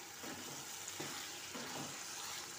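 Ground masala with green chillies sizzling in a pan, a soft, continuous frying hiss with faint stirring scrapes recurring at intervals, fairly quiet and close.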